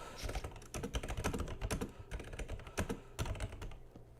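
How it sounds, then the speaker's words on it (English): Rapid, intense typing on a computer keyboard, a dense flurry of close key clicks and thumps running unbroken with no voices. "Intense typing."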